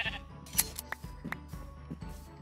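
Minecraft sheep bleat several times at a steady distance in the video game, the short calls spaced over light clicking and background game sounds, with no talking.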